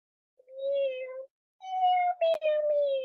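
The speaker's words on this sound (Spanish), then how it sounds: "Si yo fuera un gato, un gato, un gato, si yo fuera un gato, así maullaría." Cat meowing twice, two drawn-out, whiny meows separated by a short pause, clear and close with no talk.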